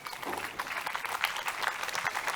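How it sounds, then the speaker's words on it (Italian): A crowd on stage-side seating applauds as Anthony Muroni, president of the Fondazione Mont'e Prama, is called up at an outdoor evening show; sustained, even clapping at moderate distance with a faint murmur of voices. "Un bel applauso per lui."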